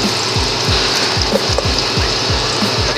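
Garlic frying in a pan gives a steady, loud sizzle, broken by regular scraping strokes of a spatula stirring about three times a second.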